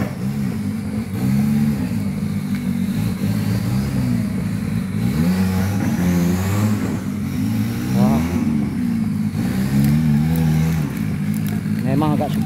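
A 4x4 off-road vehicle's engine revs and strains as it climbs a hill at a Johor 4x4 challenge, the loud rising and falling drone continuous throughout with people talking over it.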